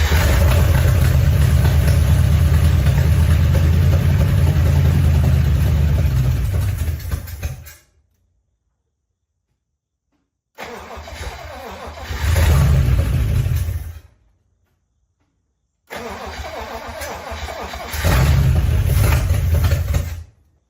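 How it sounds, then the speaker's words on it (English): A 1956 DeSoto barn find, unrestored and without fuel, turns over in three loud bursts separated by silence. A steady engine drone swells into a heavier revving surge in each burst. "Still no fuel, but that motor sounds good."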